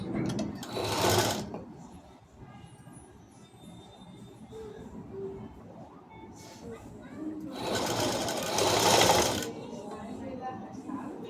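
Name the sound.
sewing machine stitching lining at frock neck edge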